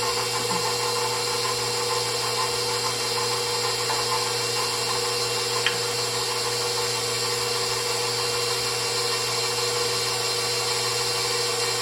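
Stand mixer kneading Italian bread dough on its low setting, a steady motor hum with an even, unchanging drone that runs throughout, no talking.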